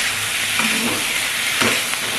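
Softened vegetables for a fish curry sizzle steadily in a hot pan, with a constant close hiss broken by a few scraping stirs of a spoon; no one speaks.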